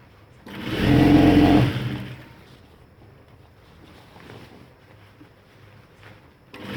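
A sewing machine stitches a ladies' pant, with elastic pulled taut under the needle, in one loud burst of whirring lasting just over a second, then fading to quiet room noise.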